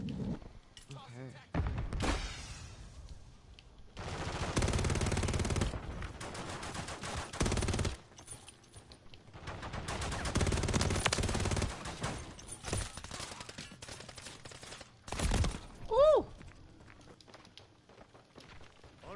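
Bursts of gunfire from the video game Call of Duty: Modern Warfare 3 rattle in several loud clusters, some sustained like automatic fire, mixed with game effects and a player talking over the action.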